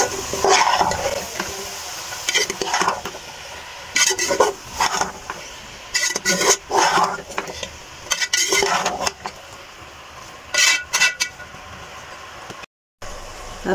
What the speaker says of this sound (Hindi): अब इनको कर लेते अच्छी तरह से मिक्स।